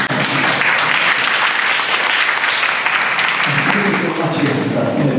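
An audience at a seaside humanities concert in Busan breaks into warm applause, a dense, steady wash of many hands clapping that stays loud and even for the whole stretch.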